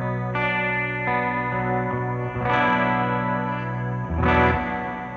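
Electric guitar played through a Fender amplifier on its clean tone, with a few ringing chords strummed and left to sustain, close and alone, with a slight shimmering, effected quality.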